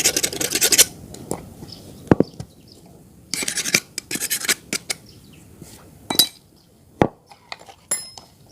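A metal scraper rasps and clinks against polishing machine parts of an Ichi polishing machine, knocking off stuck deposits in several short bursts with pauses between, close and moderately loud.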